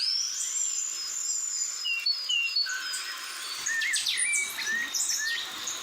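Recorded bird songs play from a Brazilian birding app: a run of high, thin chirps and whistled trills, some rising and falling, over a faint hiss.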